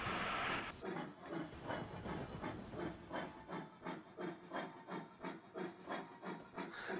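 A model train runs in Trainz Simulator on the Murchison 2 route: a burst of steam hiss opens, then steady rhythmic chuffing pulses continue at an even pace with no talking.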